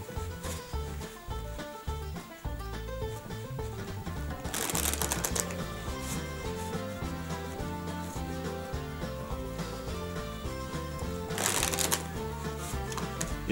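A deck of 36 playing cards being shuffled by hand in a card trick tutorial, with a dense run of soft riffling and clicking and two louder riffle bursts, no talking.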